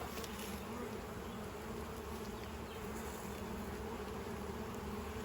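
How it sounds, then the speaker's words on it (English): Honey bees buzz densely on a nuc frame, a continuous close hum filling the air without pause, fairly faint and with no talk. "I'm going to shake all these bees off of here"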